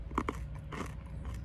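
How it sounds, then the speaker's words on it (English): Sticky, crunchy mesquite sap is bitten and chewed close to the mouth, giving a couple of crisp crunches followed by softer chewing, quiet and alone. "Let's taste some of this sugary looking mesquite sap."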